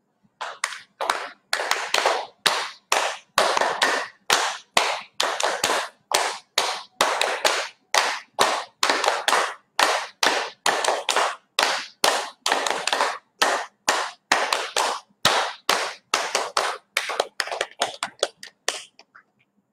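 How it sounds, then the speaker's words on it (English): A group claps hands together in nine distinct rounds at a gathering, each burst a dense flurry of close, sharp claps separated by short pauses, continuing steadily for about twenty seconds. "And let's clap 9 rounds"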